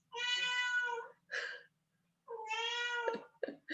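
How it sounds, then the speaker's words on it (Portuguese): A cat meows loudly up close, several drawn-out cries separated by short pauses. "Vocês estão ouvindo o gato miando"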